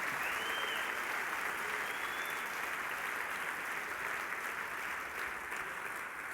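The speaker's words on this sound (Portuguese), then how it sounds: "Agora você pode aplaudir com força ao nome do Senhor Jesus." Church congregation applauding during a Wednesday evening service, a dense, even roar of clapping that holds steady and loud throughout.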